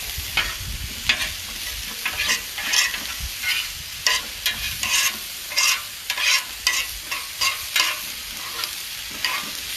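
Pork fajita meat sizzles on an outdoor flat top griddle, a loud steady hiss broken by regular scraping and turning strokes from a spatula, up close with no talking.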